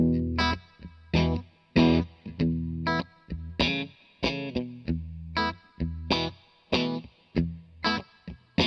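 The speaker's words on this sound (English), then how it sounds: "I'm going to be playing a Mexican Fender Road Worn Strat into the Victory V40 setup pretty clean" A Mexican Fender Road Worn Stratocaster through a Mythos Mjolnir overdrive pedal, rhythmic strummed chords with a slightly driven, chorus-tinged tone, each strum ringing briefly before the next in a steady pattern.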